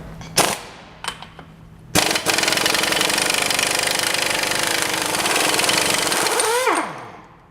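A power tool, likely an impact wrench, removes the large nut from a car's CV shaft: a few short taps, then about five seconds of loud, steady hammering that winds down at the end, with no talk.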